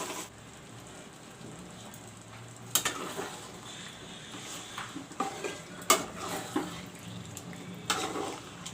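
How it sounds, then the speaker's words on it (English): Turmeric and masala frying for mutton curry, with a soft low sizzle broken by louder irregular scrapes and clanks of a spoon stirring in the pan. "Put some turmeric powder. I will let the masalas fry."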